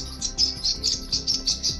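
A bird chirps in repeated quick, bright tweets at an even rhythm, close and fairly loud, with no talking.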